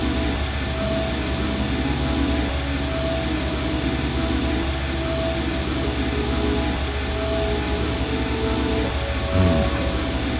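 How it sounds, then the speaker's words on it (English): A rumbling, grimy engine in the video game I Have No Mouth, and I Must Scream runs as a constant loud drone with a steady hum, one brief clunk near the end. "This engine isn't as ruggedly built as it first looked."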